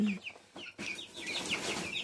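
A flock of young chickens clucks and chirps nearby in short repeated calls, sparse at first and then a denser, steady chatter with no talking.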